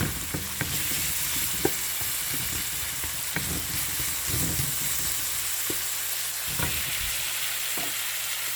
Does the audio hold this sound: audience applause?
no